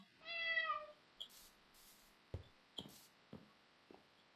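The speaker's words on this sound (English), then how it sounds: "I heard combat and then a meow" A Minecraft cat gives one clear, drawn-out meow near the start, followed by a few short, faint taps and knocks of game activity, with no voices.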